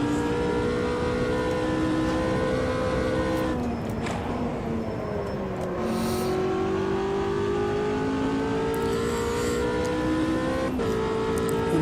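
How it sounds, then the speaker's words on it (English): A simulated race car engine in the Automobilista 2 racing game, droning loudly and steadily as revs rise and fall across several gear changes, with short clicks marking the downshifts. "Apart from the funny clicky noises on the gear changes on the downs there"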